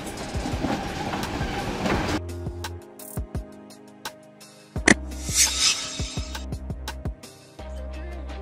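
A passenger train runs with intermittent wheel clatter and a few tonal, horn-like blasts, moderately loud and heard without talk.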